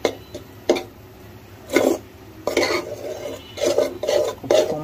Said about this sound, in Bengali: একদম ভালো করে মিক্স করে নেব